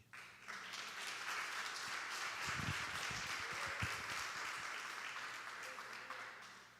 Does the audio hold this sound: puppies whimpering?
no